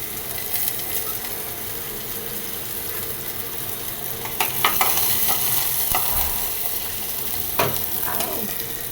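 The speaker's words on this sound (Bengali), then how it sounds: "একটু পেঁয়াজ কুচি দিয়ে দিলাম" Chopped onion frying in a wok for soup noodles gives a loud, steady sizzle with stirring scrapes and occasional sharp clanks of a utensil against the pan, close by.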